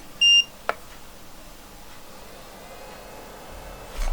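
A FIMI TX10 drone remote controller powers on with a short, clear electronic beep, followed by a faint click and quiet background hiss.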